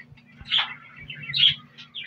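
Small birds chirp and tweet in short bright bursts, fairly close, over a faint low hum.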